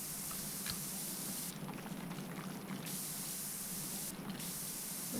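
A pressure washer nozzle sprays in PowerWash Simulator 2, a steady close hiss that brightens and intensifies in two bursts, with no voices.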